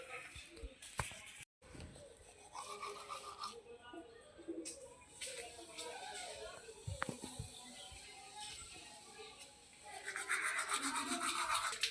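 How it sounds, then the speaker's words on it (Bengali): Someone brushes their teeth with a toothbrush in the morning, producing close, scratchy scrubbing strokes that come and go. The brushing builds to a steady spell near the end, with faint background sounds underneath. "সকাল সকাল ঘুম থেকে উঠে ব্রাশ করতে চলে আসছি আমি"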